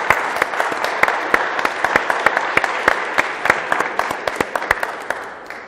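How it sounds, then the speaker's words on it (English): Audience applause at a privacy and surveillance keynote, a steady roar of many hands clapping with individual sharp claps poking through, sustained and fairly loud throughout. "Let's get a round of applause for that"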